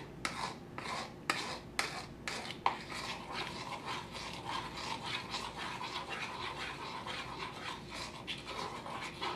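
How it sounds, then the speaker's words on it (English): A teaspoon stirs clay into a watery glue mix with a slow, steady wet rasping. Several sharper scraping taps come early, then the rubbing carries on quietly and close. "I'm just mixing with a teaspoon into the watery glue mix"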